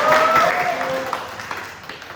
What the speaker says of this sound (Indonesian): Mungkin sebelumnya berikan dulu aplaus ya ke SS Pasti ya